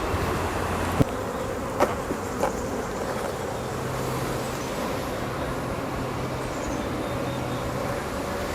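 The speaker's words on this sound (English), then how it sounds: "There's a bee emerging." Honeybees buzzing steadily around an opened top bar hive during a summer inspection, a continuous close drone with a few brief knocks and clicks of handling early on.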